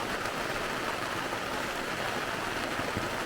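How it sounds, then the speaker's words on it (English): Steady, dense rain drums on a camping tent in the Colorado outdoors, a constant broadband hiss and patter filling the whole stretch with no voices. "let the rain fall down for a little while"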